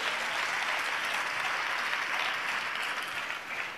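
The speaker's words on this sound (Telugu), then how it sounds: "గట్టిగా చప్పట్లు కొడుతూ స్తోత్రాలు చెప్దాం." A congregation claps loudly and continuously during worship, producing a dense, steady roar of many hands that holds at an even level throughout with no voices above it.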